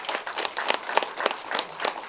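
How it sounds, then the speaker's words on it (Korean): A seated audience at an education council's anniversary general meeting applauds to welcome a speaker, a steady spell of many hands clapping, fairly close and sustained without talk. "박수로 맞이해 주십시오."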